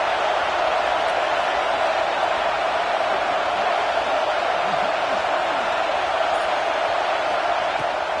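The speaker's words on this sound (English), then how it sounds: "Listen to this crowd just shaking the girders of this place," A college football stadium crowd roars in a steady, dense wall of noise that holds at full volume throughout, with no breaks or lulls.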